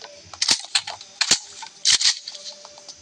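Shots fire in a Kuboom FPS mobile shooting game as a rapid, irregular string of sharp, crackly, cap-gun-like pops. The shots are fairly quiet and clustered, with a faint game tone beneath.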